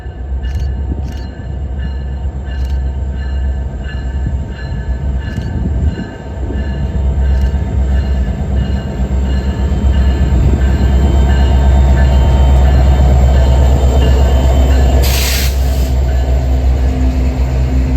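CPKC freight train 255, led by a BNSF ACE and a CP AC44 locomotive, rolls past at La Crosse with a loud, continuous rumble of wheels and cars, rhythmic clicks and a brief high squeal near the end.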